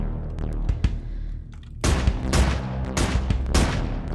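Gunfire in the indie game Depopulation: a few sparse shots, then a burst of loud, rapid, evenly spaced shots in quick succession, close and unaccompanied by speech.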